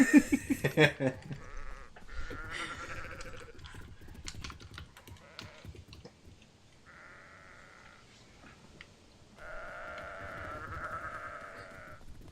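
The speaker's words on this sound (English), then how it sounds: "Let's see if you can beat record time rounding up all these Haskillian long-haired sheep" Video-game Haskillian long-haired sheep let out two long bleats in the second half, preceded by clicking and tapping sounds, with a quiet stretch between the calls.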